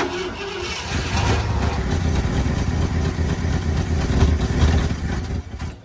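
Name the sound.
Ford F-100 engine running after years sitting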